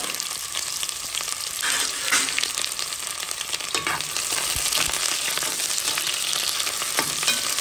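Onion fries in hot oil for a shrimp and cabbage dish, giving a dense, steady sizzling hiss with faint stirring scrapes, close and continuous.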